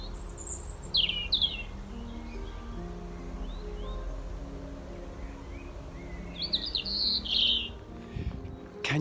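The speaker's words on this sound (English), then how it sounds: "Just listen to the birds singing in the background." Birds chirp and trill intermittently in the distance over a low outdoor rumble, with short song phrases near the start and near the end.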